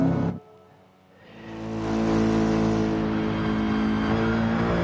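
A Formula 1 race car engine in an F1 video game rises from a brief quiet gap into a loud, sustained, steady roar, with dense harmonic engine tone holding high.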